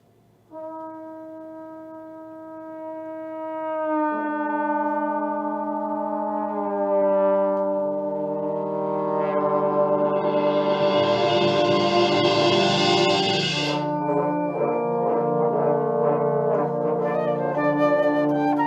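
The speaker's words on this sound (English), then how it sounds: "eerie trombone glissandos and a flute solo" Low trombone notes slide slowly in eerie, overlapping glissandos, building into a dense swelling chord before a higher flute melody emerges; no talking.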